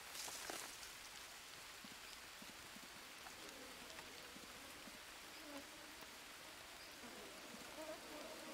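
Faint, even rain hiss with soft patters throughout in the video game Green Hell, distant and low in level, a few muffled sounds underneath, no clear talking.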